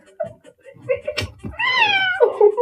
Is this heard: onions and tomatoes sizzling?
no